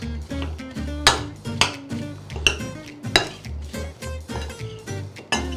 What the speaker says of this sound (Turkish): İyice karıştırıyorum.